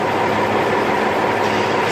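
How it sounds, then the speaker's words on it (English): A 1997 Peterbilt truck's diesel engine runs under load, a loud, steady, broadband roar filling the whole stretch without pause or talk. "Engine loading."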